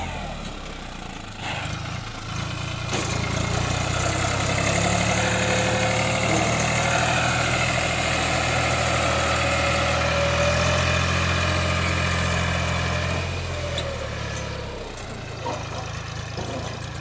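A New Holland 50 C tractor pulls a 4-ton load of potatoes uphill, its engine droning loudly and steadily at close range, with a few clunks at the start and end.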